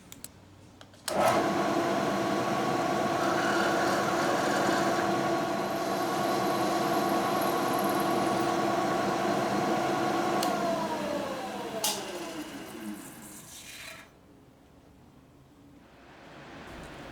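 A milling machine spins up and drills a shallow screw clearance hole in a blower spacer for a Weiand 671 supercharger: a loud, steady motor whine with cutting noise lasting about ten seconds, then the pitch drops as it winds down, and it stops.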